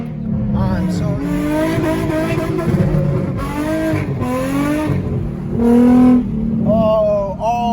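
Infiniti G35 drift car with a burnt, failing clutch, its engine revving hard in repeated rising and falling sweeps, loud and close throughout with a strained, rough edge.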